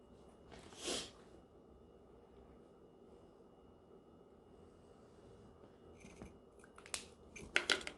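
Scissors cut upholstery fabric for a bar stool, with one snip near the start and a cluster of quick, close snips toward the end over a quiet room.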